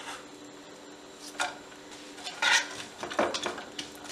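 Onions are set into a metal baking tray with a drop of oil, giving a few light scattered clinks and taps, fairly quiet and close, with soft handling noise between them and no talking.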